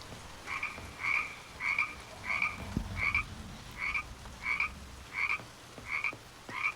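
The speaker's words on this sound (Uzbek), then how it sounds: "Odatiy qurbaqani tovushi" A frog croaks in a horror video game, about ten evenly spaced, fairly faint croaks over a quiet ambient background with one low thud midway. There is no talk.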